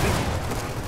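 Boomshot grenade launcher firing during a Gears of War 4 multiplayer match, a loud, dense burst of blasts and explosive rumble filling the whole short moment.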